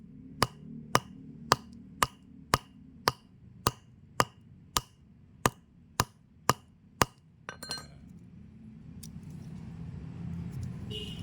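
A hammer strikes Bodrex tablets to crush them into powder: about fourteen sharp, evenly spaced blows ring out close by, then give way to softer scraping and rustling noise.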